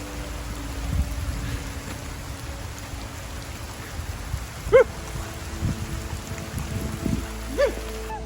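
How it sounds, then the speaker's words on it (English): Rain falls on the Palm Loop Trail along the Peace River in Florida, a soft, continuous patter with faint voices and a few scattered nearby sounds in the background. "It's raining!"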